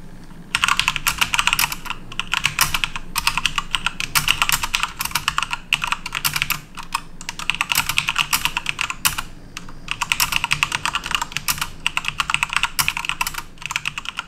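Continuous rapid typing on an Aorus K7 mechanical gaming keyboard, close and steady, dense key clatter with only brief pauses and no talk.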